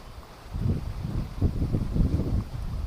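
Strong wind buffets a microphone outdoors on water while fishing, producing loud low rumbling gusts that swell and pulse for the whole span with no other clear sound.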